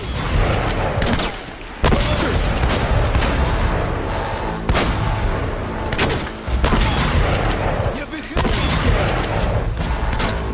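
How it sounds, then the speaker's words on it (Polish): Gunfire from a firefight in the video game Uncharted, an enemy shooting from behind cover: dense, loud, overlapping shots run almost continuously, with brief lulls between volleys. "Kontakt robi 3 strzały zza osłony."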